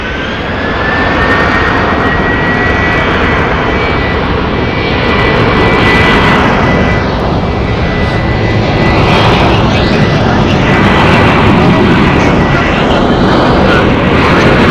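Jet engines of a WestJet Boeing 737 roar loudly and steadily at Phoenix Sky Harbor airport, a broad continuous rumble with a faint rising whine, holding for the full span with no let-up.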